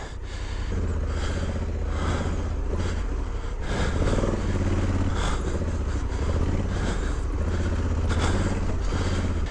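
A heavy motorcycle creeps slowly over loose ground, its engine a steady low, throaty rumble with gentle surges of throttle. Close and continuous, with no voices over it.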